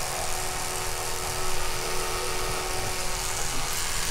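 A steady buzzing hum from an electric toothbrush held at a 45-degree angle along the gum line, close and continuous for several seconds with no talk over it.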